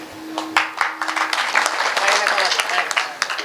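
An audience at a Marathi kirtan in Gangakhed claps in scattered bursts that build into sustained applause, heard close alongside a brief tone and some voices.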